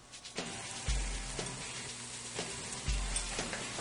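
Onions and garlic sauteing in a pan over medium heat, a steady close sizzle with low thumps recurring about every two seconds, no talking.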